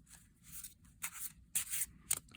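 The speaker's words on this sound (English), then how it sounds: "It seems to shuffle fairly well." Quiet papery riffling in several short bursts, a fairly thick tarot deck being shuffled close by, with pauses between each pass and no speech.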